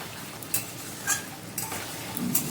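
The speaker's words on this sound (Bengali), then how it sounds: "আমি ঢাকা খুলে এখন 10 মিনিট মতো কষে নেবো মাংসটাকে" Mutton stir-fried uncovered in a pot for Bengali mutton curry, a soft steady sizzle with a few sharp clinks and scrapes of a spoon against the pot, close but quiet, no voices.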